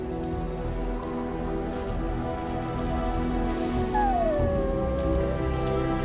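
A dog in a video game camp scene whimpers and lets out a rising then falling howl over a steady droning ambient background, moderately close, with no speech.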